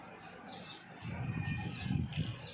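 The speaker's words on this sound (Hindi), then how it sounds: "ये देखिए चिड़िया आती है ना यहाँ पे।" Small birds chirp faintly outside near a window in the evening, with soft calls scattered over a breezy low background rumble.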